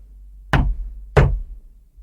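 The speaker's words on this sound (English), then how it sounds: "He knocked at the door" Two loud, sharp knocks on a wooden country-house door, evenly spaced about two-thirds of a second apart, close and alone with no voices.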